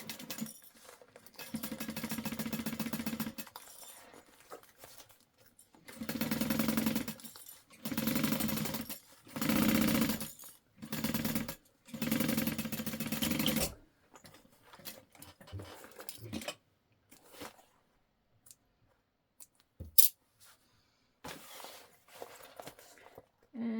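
A sewing machine stitches a clear vinyl Guardian backpack in several short bursts of steady mechanical whirring separated by pauses, followed by quieter handling clicks and taps.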